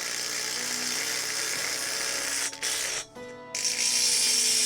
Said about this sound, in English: we'll go ahead and tighten down the band clamps